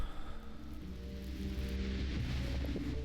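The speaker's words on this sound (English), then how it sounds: "It is raining" Rain pours in the video game Deadly Premonition while a car drives through it, a steady mid-loud hiss over a low rumbling engine-like drone and faint tonal music.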